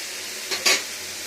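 Brinjal and potato fry in a pan with a soft continuous sizzle, broken by a short scraping stir of a utensil.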